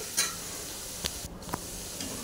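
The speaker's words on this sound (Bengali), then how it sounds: "একটু বারে বারে নেড়ে দিচ্ছি" Potatoes frying in oil are stirred now and then, giving a soft continuous sizzle with a few faint scrapes and taps of the spoon, quiet and close, with no talking.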